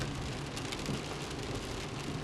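Steady outdoor rain falls hard and continuously, a dense broadband hiss with spattering drops on surfaces, close and loud throughout with no voices, while motorcycle repairs go on nearby in the cold.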